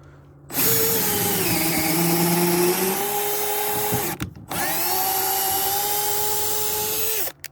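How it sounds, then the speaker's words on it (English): A cordless power drill running on a 6.0 or 2.0 amp-hour battery whines loudly and steadily in two long runs, with a short pause between them and no talk. "See if it's cooled down enough where I can drill."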